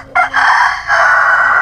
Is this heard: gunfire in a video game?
no